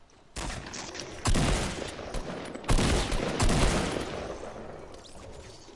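Gunfire in a Fortnite match comes as loud, dense bursts of rapid shots, with several sustained volleys of close, crackling fire that overlap and trail off.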